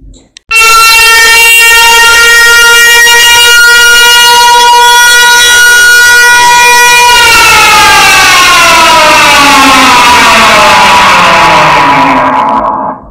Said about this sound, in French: La sirène, elle sonne encore. Elle ne devrait plus sonner.